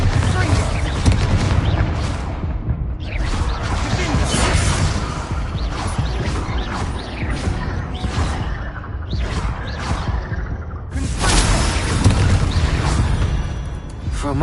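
Bombarda explosion spells cast in Hogwarts Legacy, a dense run of booming blasts and crashes with whooshes, loud and continuous with a fresh surge late on, while a player talks over it.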